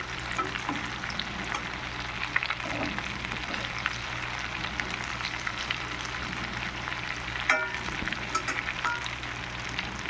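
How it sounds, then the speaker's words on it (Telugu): Chicken pakoda deep-frying in oil gives a continuous, dense crackling sizzle that holds steady throughout, close and fairly loud. "బాగా కాలనిద్దాం పదహైదు ఇరవై నిమిషాల పాటు వేగాలి"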